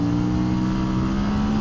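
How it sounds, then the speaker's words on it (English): A dirt bike engine revs hard while its rear tire spins on loose dirt, heard as a loud, sustained close engine roar with a steady droning tone. "We're not going to gain any speed, but it's just going to light the tire up."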